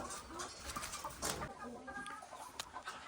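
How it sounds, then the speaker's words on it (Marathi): Crested desi hens clucking and fowl calls in a busy free-range poultry coop, several birds vocalizing irregularly at moderate distance with constant background noise. "ही बघा ही शेंडीवाली कोंबडी आहे"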